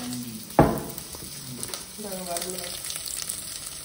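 Cumin, onion and dried red chillies hit hot oil for tempering, opening with a sharp burst of sizzle that settles into a steady close frying hiss with light stirring.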